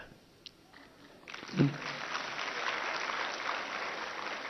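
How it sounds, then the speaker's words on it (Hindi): A crowd at a cultural program at a Vedic girls' gurukul in Haridwar breaks into applause after a soft thump. The clapping is moderately distant, steady and sustained, and keeps going to the end. "ताली तो उधर से बज रही है, इनकी नहीं बज रही अभी भी।"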